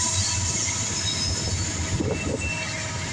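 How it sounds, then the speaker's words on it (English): Southbound Norfolk Southern mixed freight train rolling past close by, a continuous loud rumble of railcars with a high wheel squeal held over the top. "There goes that southbound Norfork Southern mixed freight train."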